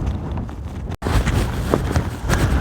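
Steady gusty wind on the Pennine Way between Tan Hill Inn and Dufton buffets the microphone, a dense continuous rumble with a brief dropout partway through, no talking.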